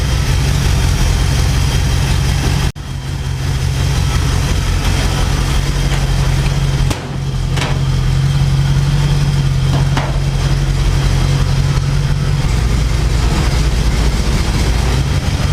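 A 1940 Ford engine idles steadily and loudly up close, a deep rumbling drone with slight crankcase pressure, its low throb continuing unbroken apart from a brief dip near the start.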